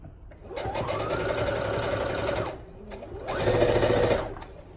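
A sewing machine stitching a small fabric market bag runs in two bursts of rapid stitching, a steady whirring hum that speeds up, holds, pauses briefly, then starts again nearby.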